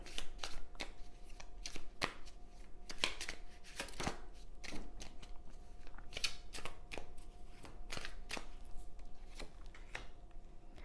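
Oracle cards being shuffled during a tarot reading, a continuous run of close, soft riffling and flapping bursts in an uneven rhythm, quiet and without any talking.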